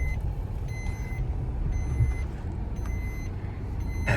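A vehicle's reversing alarm beeps in an evenly spaced series of tones while it is backed into a parking spot, with a steady engine rumble underneath and no talking.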